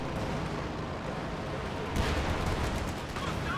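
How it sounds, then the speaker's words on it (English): Scattered infantry support gunfire in a WWII strategy video game, a few dull distant shots and thumps within a dense, continuous battle din. "A couple infantry support gunshots being fired"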